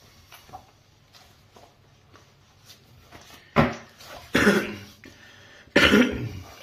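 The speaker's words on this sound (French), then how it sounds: "excusez-moi pour la toux qui est toujours là" Three sharp, fairly close coughs from one person at a quiet table, spaced a second or so apart, following some soft shuffling and handling noises.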